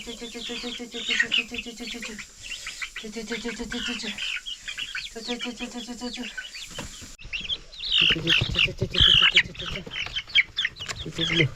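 Chicks chirping in rapid high peeping bursts, repeated in clusters and close by, with hen clucks and someone talking in between.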